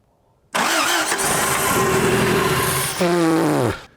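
An old Toyota pickup being revived from a junkyard cranks and fires up after a quiet moment, running loudly and roughly for about three seconds before the engine note sags and dies out.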